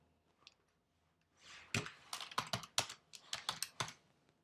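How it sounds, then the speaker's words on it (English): Close, crisp bursts of keystrokes on a computer keyboard, typed while entering text in Adobe Photoshop, forming an uneven run of clicks with a brief pause before the flurry and no voices. "I'm typing welcome to our home."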